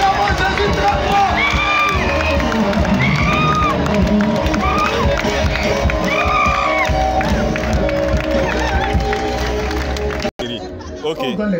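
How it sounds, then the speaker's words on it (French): A church congregation in a healing service bursts into loud, sustained cheering and acclaim for Jesus, with whoops and shouts rising above a dense, continuous crowd roar that cuts off abruptly near the end. "Acclamons Jésus très fort."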